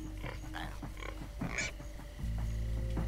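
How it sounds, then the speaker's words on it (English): Pigs in Minecraft Story Mode video game grunting and oinking in short repeated bursts over a steady game background drone, fairly quiet. "all pigs but Reuben, shut up"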